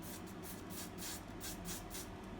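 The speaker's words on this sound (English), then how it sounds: "I use Got to Be glue, and I spray it like this" Several short hissing bursts from a spray bottle of Got to Be glue, aimed at an eyebrow brush, fire in quick irregular succession, close and fairly quiet, with no talking.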